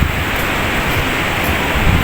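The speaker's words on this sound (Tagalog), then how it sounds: "Malakas yung alon." Steady, loud roar of rough ocean surf on the beach at Binmaley, Pangasinan, a continuous wash of crashing water noise with no voices.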